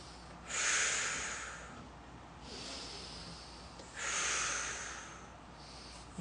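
Strong nasal breaths during a jaw-jutting fascia facelift exercise: two loud, hissing exhales with softer breaths between, close and alone with no talk.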